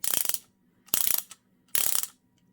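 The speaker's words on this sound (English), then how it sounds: "kind of like the way it sounds when you get the exposed pawl." An Indestro Select pear head ratchet with an exposed pawl clicks in three short, crisp bursts of rapid ticks, separated by quiet pauses and heard close and alone.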